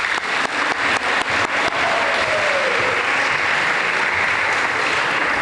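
An assembly audience claps for an award winner, starting with a few scattered claps that swell into steady, full applause and carry on to the end.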